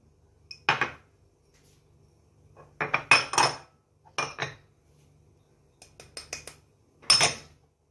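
Herbs and shallot stirred into homemade mayonnaise in a bowl, heard as a few scattered clinks and scrapes of a utensil against the dish, separated by short silences, close and fairly quiet.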